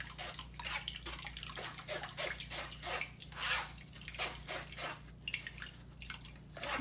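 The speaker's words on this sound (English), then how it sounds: "I'm gonna go ahead and use a strainer, and we're gonna strain to get all of the liquid out" Carrot, ginger and lime juice drips and trickles through a strainer into a bowl in a steady run of soft, close liquid patters and splashes, with no voices.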